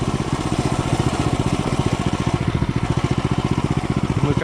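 A homemade mini bike's small engine putters steadily while rolling downhill, a rapid even chugging throb close by and fairly loud throughout.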